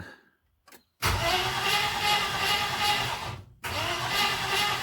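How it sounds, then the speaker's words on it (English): A rebuilt car engine with a grease-packed oil pump cranks steadily on the starter to build oil pressure, loud and close, with a brief pause partway through before cranking resumes. "so we're going to keep cranking it"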